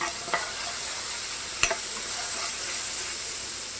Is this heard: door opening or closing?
no